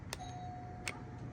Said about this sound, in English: One ding because it's the rear door.